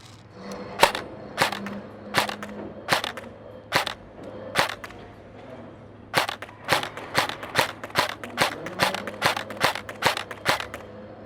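Sharp single shots from a Dytac Sharps Bros SLR Rifleworks MB47 airsoft AK electric rifle fired at targets: spaced cracks at first, then a faster steady run of about a dozen snappy shots, close and crisp.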